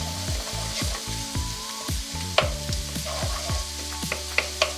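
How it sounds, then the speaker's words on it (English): Ginger and garlic frying in a pan for a dhaba-style paneer masala, with a steady close sizzle and repeated scraping and clattering strokes of a spatula stirring through. "ginger's cooked for a bit, add the garlic. Give that a good old mix."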